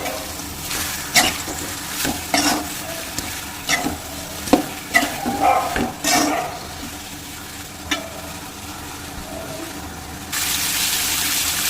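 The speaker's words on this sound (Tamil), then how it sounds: "பாவக்காயை எண்ணெயிலே கொஞ்சம் நேரம் நல்லா வதக்கிக்கலாம்" Bitter gourd stirred and fried in oil: repeated close spatula scrapes and knocks over a constant sizzle, stirring strokes irregular, ending in a louder, smoother rushing hiss; no voices.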